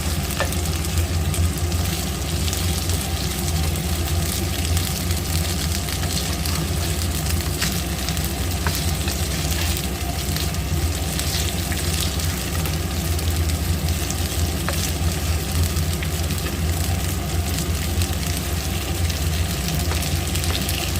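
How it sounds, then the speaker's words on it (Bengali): Katla fish fry sizzles steadily in hot oil, a dense continuous crackle that holds an even, close level throughout with no voices. "এটা ঠিক প্রপার ফ্রাই হয়ে গেছে ফিশ ফ্রাইটা"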